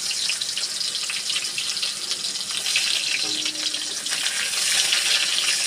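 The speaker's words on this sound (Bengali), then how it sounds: "এবার পেঁয়াজটা দিয়ে দিচ্ছি।" Onion dropped into hot oil in a pan, giving a steady, loud broadband hiss of frying that continues evenly throughout.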